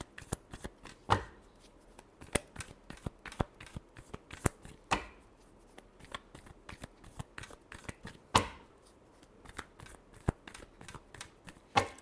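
A deck of tarot cards is shuffled by hand, making crisp, repeated riffling snaps and slaps in an irregular rhythm, close and fairly quiet, with no talk.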